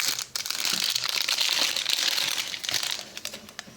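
Steady, close crinkling and rustling as the packaging around a rose-shaped soap is unwrapped by hand, continuous crackles for a few seconds with no talking.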